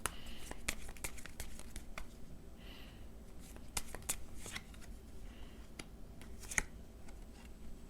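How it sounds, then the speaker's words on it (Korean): Tarot cards shuffled and drawn by hand at a reading, a soft continuous riffle of card stock with sharper snaps and slaps as individual cards are pulled and laid down, close and quiet with no talking. "두 장만 더 뽑아볼게요"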